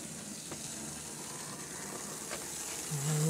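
A model train locomotive runs along Super 4 track, some of it old and tarnished, as a steady faint whirring hiss with light mechanical ticking; a low motor tone swells near the end.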